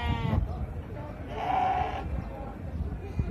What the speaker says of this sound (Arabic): هذا الخرفان يا جماعة